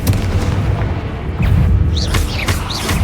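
Confringo blasting spell explosions in the video game Hogwarts Legacy, deep loud booms and rumbling blasts filling the whole stretch, with whooshing magical sweeps over the top and no speech.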